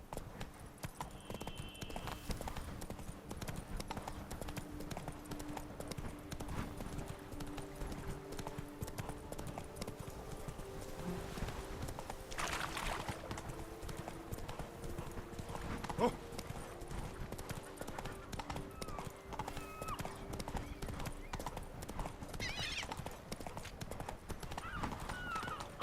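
A horse in The Witcher 3 clip-clops steadily at a gallop, hoofbeats close and continuous over game music, with an occasional whinny.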